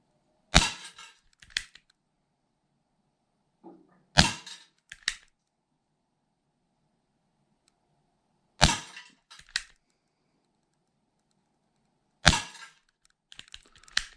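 Four sharp pellet shots from a Schofield 6-inch 4.5 mm single-action pellet revolver in aged black finish, each crack followed by a softer secondary click, spaced a few seconds apart with quiet between.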